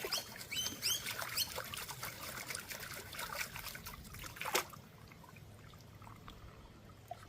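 Creek water trickling and splashing while gold is panned by hand in a Melbourne creek, a busy close wet patter that thins to a quieter steady trickle near the end.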